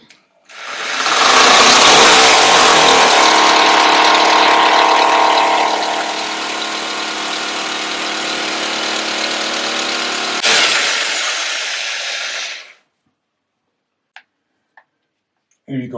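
A drill running with only the point for a heat-recovery air exchange installation gives a loud, steady, close whirring drone for about twelve seconds, then cuts off, followed by a few faint clicks.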